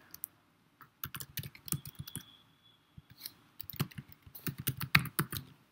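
Irregular bursts of quick, close keystrokes on a computer keyboard as a message is typed, with short pauses between clusters and no talking.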